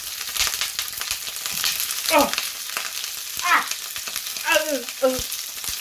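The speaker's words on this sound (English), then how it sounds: "We're going to go in now with our chicken drumsticks. And the oil is miles too hot." Chicken drumsticks frying in oil that is far too hot for a vindaloo curry, with a constant crackling sizzle and a few louder spits and stirring scrapes at intervals.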